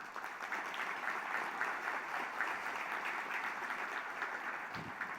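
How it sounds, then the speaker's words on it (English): Audience applause for the Fort Sam Houston students at a live foundation event, a steady, dense clapping from a large crowd that carries on evenly throughout without letting up. "Let's give the Fort Sam Houston students a round of applause."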